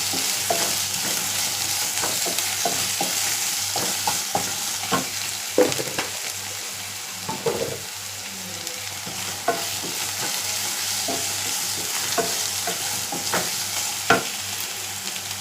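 Onions sautéing in a pan for egg gravy, a continuous even sizzle with scattered scraping clicks from stirring, steady and close throughout.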